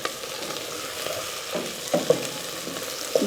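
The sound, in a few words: frying with chopped tomatoes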